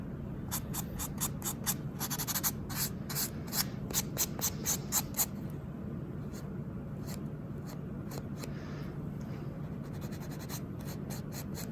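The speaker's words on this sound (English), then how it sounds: "you can kind of go like this with the buffer block, or you can even go with the file with the edge, just gently like this" Fingernail being worked with a buffer block and nail file during a manicure, quick repeated scratchy rasping strokes in rhythmic bursts, close and fairly soft, trailing into quieter intermittent rubs.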